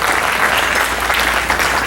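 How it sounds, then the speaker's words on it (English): Dense, steady applause from a large audience at a community organization's annual fundraising gala, filling the room evenly without pauses. "So give yourselves a hand of applause."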